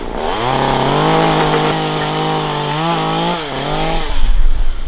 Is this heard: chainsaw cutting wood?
yes